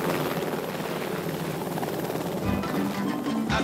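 A helicopter in Burkina Faso drones close and loud with a steady chopping rotor roar throughout, with no voices over it.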